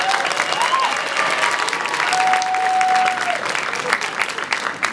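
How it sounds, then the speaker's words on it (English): Loud, sustained applause and crowd noise after a dance choreography exhibition performance, dense clapping throughout with a few whoops and cheers rising above it. "Can we give them another round of applause?"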